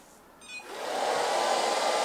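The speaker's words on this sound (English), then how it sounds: "So right now I'm like manually control the robot." An iLife V5 robot vacuum cleaner starts up after a brief beep and settles into a steady, close whirring hum that runs on unbroken.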